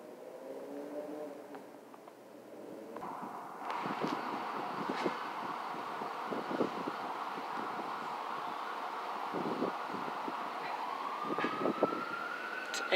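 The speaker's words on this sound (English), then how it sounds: "It's M8 train." An M8 commuter train passes through Tremont, a steady rumbling roar with rattling and squealing that swells after a few seconds and holds, with a rising tone near the end and no voices.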